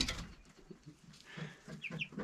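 Young chickens cluck and peep softly close by in a few short, faint bursts with quiet gaps between.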